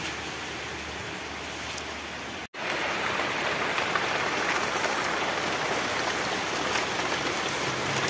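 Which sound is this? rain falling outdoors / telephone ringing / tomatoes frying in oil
rain falling outdoors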